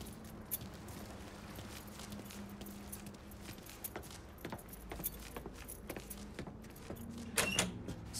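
Truck keys jangle in the Mafia 3 video game, a light metallic rattle repeating in small bursts over a steady low hum, with one louder clatter near the end.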